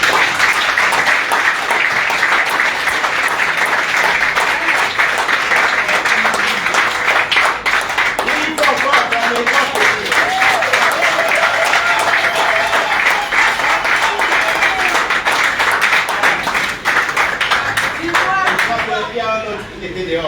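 Sustained, loud applause from a crowd welcoming freed political prisoners, dense clapping that carries on without a break, with voices calling out beneath it near the end.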